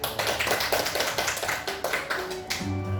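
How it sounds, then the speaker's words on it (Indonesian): An audience at a teacher training session claps for a presenter, brisk close hand claps in an uneven rhythm, closing with a brief low tone. "Sekali lagi kita beri tepuk tangan buat Bu Puji."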